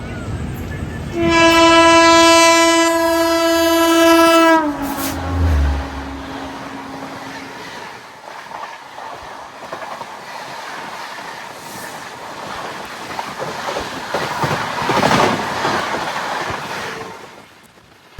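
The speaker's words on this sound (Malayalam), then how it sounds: "ന്യൂഡൽഹിയിൽ നിന്ന് റാണി കമലാപതി ഉണ്ടല്ലോ, ഭോപ്പാല്, അങ്ങോട്ടേക്ക് പോകുന്ന ശതാബ്ദി എക്സ്പ്രസ് ആണ് ഇപ്പോൾ കത്തിച്ച് പോയത്" A Shatabdi Express from New Delhi to Rani Kamalapati, Bhopal, sounds a loud sustained horn, then roars past at speed with rushing rail rumble and clatter that gradually fades.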